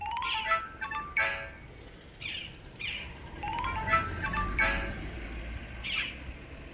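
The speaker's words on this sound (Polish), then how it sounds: "Mariola pisze SMS-y." Series of short chirping SMS notification tones from a Vivo X Fold 3 Pro phone, several in quick succession with brief pauses, fairly loud and close.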